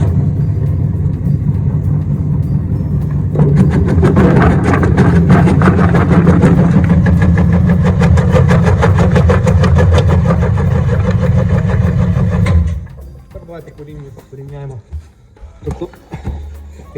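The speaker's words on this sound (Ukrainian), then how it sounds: "Запускаємо машину." A STvega Dicer H400 industrial vegetable dicing machine starts up and runs with a loud, steady mechanical drone and rattle, then cuts off abruptly, leaving quiet clatter and someone speaking.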